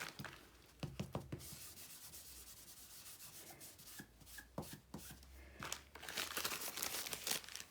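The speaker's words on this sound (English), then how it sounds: "Then I used my dust bag because I am going to heat and emboss the words." A dust bag is rubbed over card stock before heat embossing, giving close, soft scuffing and papery brushing in uneven bursts with brief pauses, growing a little busier toward the end.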